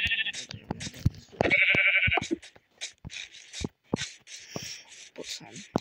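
Sheep bleat several times in Minecraft, with bursts of a person talking and clicks between them.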